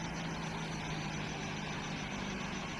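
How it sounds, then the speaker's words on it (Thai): A tractor loader's engine runs steadily with a continuous low drone and rumble at a constant level, with no voices and no change in pitch. "สุดยอดรถไถ"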